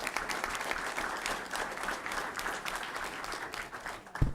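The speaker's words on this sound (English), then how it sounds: "Let's give them a round of applause as well." Crowd at a school board meeting applauds, a steady wash of many hands clapping at moderate volume, sustained throughout with a thump near the end.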